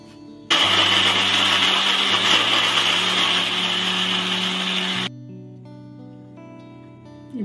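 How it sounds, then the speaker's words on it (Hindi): A mixer grinder grinding churma whirs loudly and steadily for several seconds, then stops abruptly, leaving a quieter hum and some faint clatter. "अभी चूरमा पीस लेंगे, मिक्सर में डालती हूँ।"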